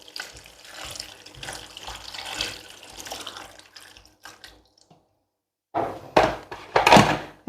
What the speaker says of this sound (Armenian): և լցնում եմ ջուր։